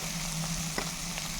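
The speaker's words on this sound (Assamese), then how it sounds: "সেইদৰে মই আলুখিনি ভাজি আছোঁ।" Small potatoes frying in a pan give a steady, fairly quiet sizzle that runs through the whole moment, with a couple of faint clicks and stirring touches over it and no one talking.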